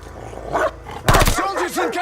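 A dog barks in the Call of Duty Vanguard war game, a few sharp yelps amid gunfire and shouted game dialogue, loud and close.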